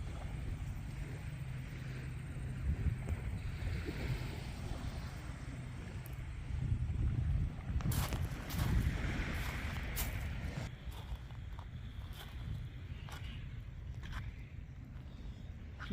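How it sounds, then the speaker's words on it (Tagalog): Ocean waves wash onto a beach in Wellington as a steady broadband roar, swelling louder around the middle with gusts of wind buffeting the microphone, and no voices over it. "yung tunog ng alon"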